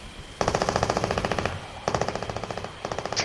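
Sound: gunfire in a video game

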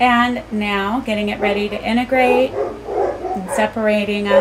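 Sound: dogs barking in the background

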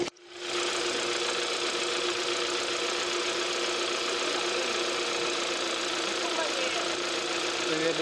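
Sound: Kia Theta2 GDI engine running quietly after pump replacement

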